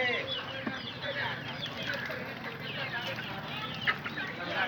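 Desi chickens clucking on a poultry farm, several birds calling in overlapping bursts at moderate distance against steady outdoor background noise.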